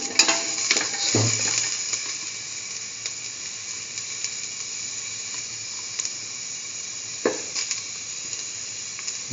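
Dal frying in a pan with salt for a mustard broccoli potato rice dish, giving a steady soft sizzle throughout, with a couple of brief clatters from stirring or adding ingredients.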